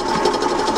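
A drill bit boring through wood held in a workshop fixture plate, giving a steady, continuous whirring grind with an even, close-up texture throughout.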